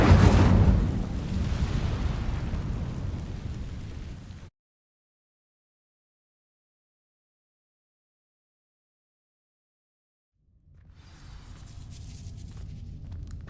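A fire spell bursts into flame on dry vines in Hogwarts Legacy, a loud whooshing blast that fades out, then silence for several seconds before a low rumbling ambience returns.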